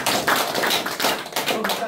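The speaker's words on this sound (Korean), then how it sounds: "네 뜨거운 박수" An audience at an opening ceremony of a political academy in Yeouido claps in a brief, dense burst of applause, overlapping with a speaker's voice.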